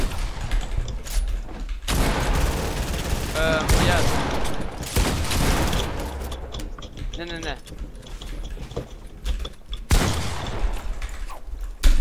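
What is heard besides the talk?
gunshots in a video game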